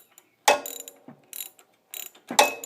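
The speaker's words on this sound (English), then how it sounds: "grab your 5/8 inch deep well socket. Make sure the spark plug is firmly placed and remove." Ratchet with a 5/8 inch deep well socket loosening a spark plug on a Swisher Z-Max XZT60 riding mower: several bursts of close, sharp clicking pawl ratchet strokes, separated by short pauses, with no talking.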